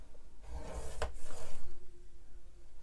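A blade drawn across a wooden board makes one close, dry rasping stroke that swells and fades over a couple of seconds, with no talking.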